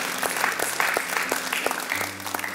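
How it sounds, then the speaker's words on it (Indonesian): Church congregation clapping during an Indonesian-language service, a brief burst of lively applause with low musical tones and a faint voice beneath. "Haleluya, berikan tepuk tangan"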